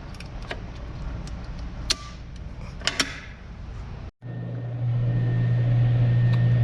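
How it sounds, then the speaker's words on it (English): A hot tub pump starts after clicks and clunks from switching on the breaker, settling into a steady low hum with a faint whine that grows louder and continues to the end. "So we'll go ahead and turn on the breaker and fire the hot tub up."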